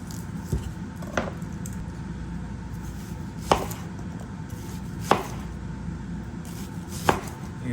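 A knife chops an onion on a cutting board during meal prep, sparse sharp knocks spaced a second or two apart over a low kitchen background, close and clear with no speech.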